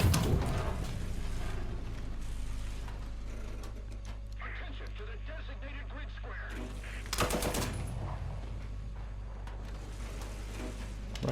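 Machine gun bursts from a tank in a War Thunder simulator battle, rapid rattling fire at the start and again around the middle, over a steady low engine rumble, with a voice talking.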